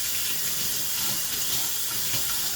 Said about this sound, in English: we're also going to rinse off a cooking utensil as well.